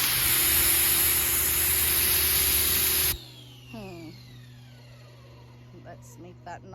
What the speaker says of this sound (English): I actually want to quickly test the double 25-degree nozzle